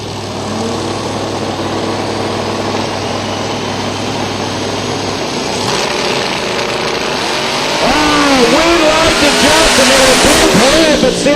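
A supercharged drag car in the left lane and a turbocharged one in the right idle loudly side by side at Silver Dollar Raceway, then rev hard with sharp rising engine sweeps near the end, all close and continuous.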